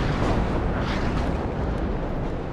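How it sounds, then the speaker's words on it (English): Howitzer artillery fire in the WARNO strategy video game, a dense continuous rumble of overlapping distant blasts at steady loudness with no clear separate shots. "the howitzers are just sort of shooting nothing"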